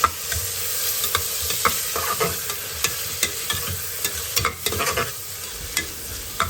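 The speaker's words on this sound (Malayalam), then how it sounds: "നമ്മൾ തക്കാളി ചേർത്ത് കൊടുക്കുക നന്നായിട്ട് മിക്സ് ചെയ്യുക" Tomatoes stirred in a frying pan for pressure-cooker chicken, with a steady sizzle under repeated scraping clicks of the spoon against the pan, close and fairly loud with no talking.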